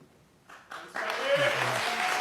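A studio audience at a televised 2018 presidential debate breaks into applause, starting with a few scattered claps that swell into steady clapping, with a voice speaking over it.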